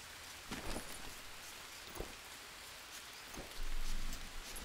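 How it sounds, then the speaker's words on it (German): Steady rainfall in the video game Green Hell pattering on a surface, with a few louder drips and a brief swell in intensity near the end. "Und es regnet."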